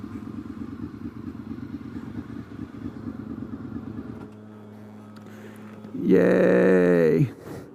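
Motorcycles at the Deals Gap Store and Resort on the Tail of the Dragon, one engine idling and rumbling nearby, then a louder bike revving up sharply for about a second before cutting off, with a faint voice in the background.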